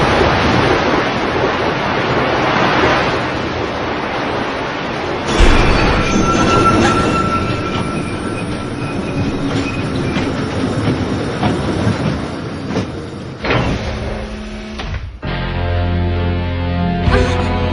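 A train rumbling and clattering as it pulls into a closed station, a loud continuous roar of rolling wheels that shifts near the end into steadier rhythmic mechanical sounds.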